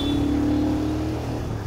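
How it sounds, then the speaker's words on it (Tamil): Heavy road traffic on a highway near Delhi, a dense continuous roar of nearby engines with a low steady drone and a faint tonal whine, loud and unbroken. "இங்கே ஃபுல்லாக டிராஃபிக்."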